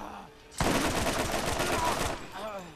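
A machine gun fires a dense, rapid automatic burst lasting about a second and a half during a Borderlands game session. The burst is loud and continuous, then cuts off abruptly.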